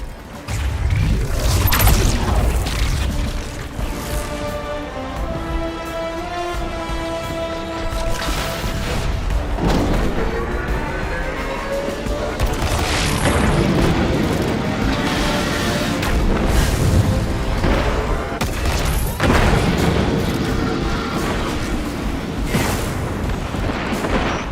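Explosions strike enemy tanks in the video game Destiny 2 Lightfall, with heavy booms and crashing impacts layered over a loud, continuous dramatic orchestral score.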